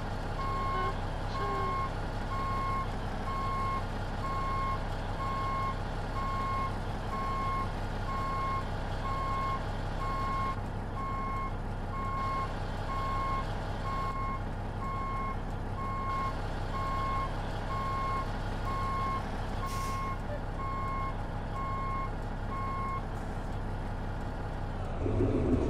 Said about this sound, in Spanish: Me gusta la reversa de esta.